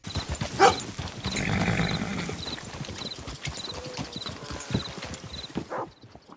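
A horse in a video game clip-clops in a steady walking rhythm with rustling and jingling tack, a short snort near the start, fairly close.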